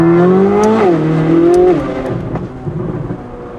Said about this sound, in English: it sounds like a Formula car